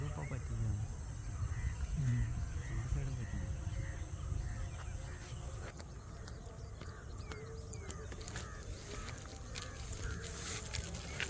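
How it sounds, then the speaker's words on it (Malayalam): An Asian koel calls outdoors near farmland, repeated whistled notes carrying from a distance over a steady hiss of insects and ambient noise. "കുയിലാണല്ലേ"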